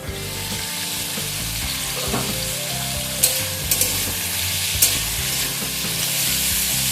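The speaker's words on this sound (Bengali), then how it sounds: "এটা আমি চাপা দিয়ে ভেজে নিচ্ছি" Mixed vegetables with spinach frying in a covered pan, a steady close sizzle and crackle running throughout, with a few sharp clinks of the lid or utensil.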